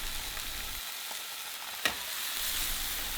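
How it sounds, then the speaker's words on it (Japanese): Beef tenderloin sears in a pan over medium heat, giving a soft, steady sizzle with one brief crackle partway through, heard alone and fairly quiet. "側面一周きれいに焼けたので表の面を焼いていきます"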